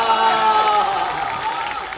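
An audience claps in response to a speaker at a public address, a steady wash of applause with crowd noise and tonal voices running through the whole short stretch.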